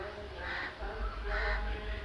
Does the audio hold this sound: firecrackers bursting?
no